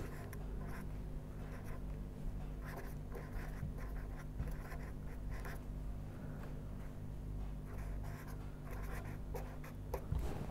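Hand writing an equation, a continuous soft scratching of pen or chalk with short strokes and pauses, close and faint, with no speech.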